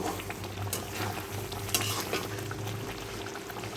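Eggplant curry, thickened and sprinkled with sugar, is stirred in a pan, giving a steady low sizzle and bubbling with scraping stir sounds and a brief clatter near the middle.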